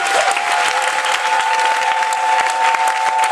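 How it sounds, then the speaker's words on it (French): Church congregation applauding steadily and loudly throughout, dense clapping with a faint sustained organ or keyboard tone running beneath. "Applaudissez pour le Seigneur."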